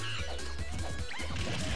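An up smash lands as a hit in a Super Smash Bros. for Wii U tournament match with Ness, a loud punchy crash layered over busy game sound effects that stays dense and loud from start to finish.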